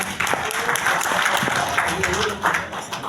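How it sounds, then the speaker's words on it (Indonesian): A crowd at a political education gathering in a hotel breaks into applause for the city of Samarinda, a dense, loud burst of clapping mixed with a voice, lasting a few seconds. "Tepuk tangan dong buat Kota Samarinda"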